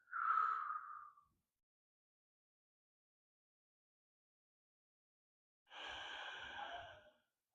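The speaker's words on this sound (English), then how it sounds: "Breathing in and out, even slower." One slow, deep breath is heard during yoga, a soft inhale at the start and, after a long silence, a longer, airy exhale through the mouth, both faint and close.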